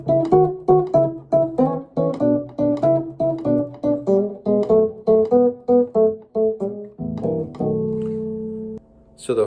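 An electric guitar plays a Chicago blues pattern over the five chord in an early electric style, repeating a choppy, rhythmic figure of plucked notes. It ends on a held, ringing chord, close and clear with no talk.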